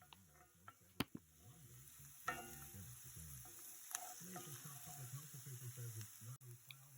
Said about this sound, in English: right here I am sauteing some onions, and I had added tomato paste to the onions